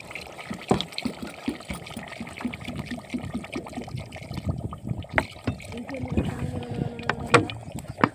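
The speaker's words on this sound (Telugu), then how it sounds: "కొన్ని వాటర్ అయితే వేస్తాను" Water is poured into a pot of cooking mutton curry, giving faint trickling and splashing with occasional utensil clicks, while someone talks softly in the background.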